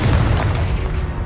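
A Confringo fire spell explodes in Hogwarts Legacy on Xbox Series X, a loud, close, deep rumbling blast that sustains heavily for over a second without fading much.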